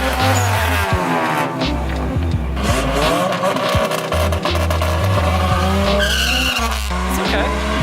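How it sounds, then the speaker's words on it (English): A car does a burnout at a drag strip, its tires squealing and skidding loudly and continuously over a roaring engine for the whole stretch, with a few faint voices underneath. "Gonna try your first burnout?"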